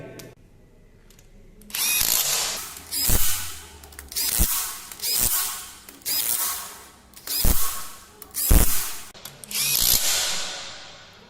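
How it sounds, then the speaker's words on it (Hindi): A power tool tightens bolts on a new Swaraj 724 4x4 tractor, with about seven loud, close whirring bursts of a second or so each, every burst ending in a sharp knock and separated by short pauses. "अंदर से बाहर की ओर कसते हुए इन्हें टाइट करेंगे।"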